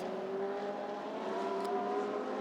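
GT race cars at the Sepang circuit heading toward turn 4, a steady distant engine drone with a sustained tonal hum, fairly faint and without voices.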